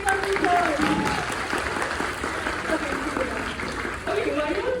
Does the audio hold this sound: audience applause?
yes